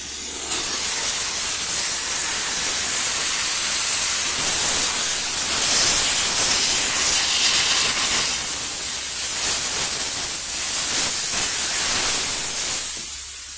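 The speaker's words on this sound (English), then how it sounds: "Fill up our hose. We get it a little bit wet. We go back to steam." A steam cleaner blasts a loud, steady hiss of steam across a car's cowl and wiper area during auto detailing. The spray is close and continuous, lasting several seconds with only slight swells in intensity. No voices are heard.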